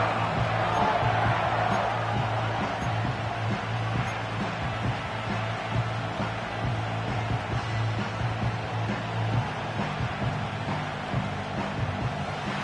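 Stadium crowd at an NFL football game between the Packers and the opposing side, a steady broad roar of many voices filling the whole span with no individual voices standing out, continuous and moderately loud.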